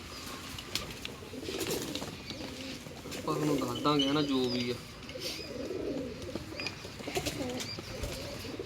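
Pigeons at a sale, soft cooing rising briefly in the middle beneath someone talking, with chirps and faint wing flutters around.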